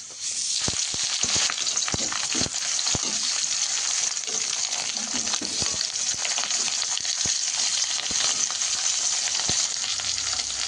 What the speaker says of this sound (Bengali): তেলটা বেশ গরম হয়ে গেছে আর এবার দিয়ে দেবো মশলা মাখানো মাছ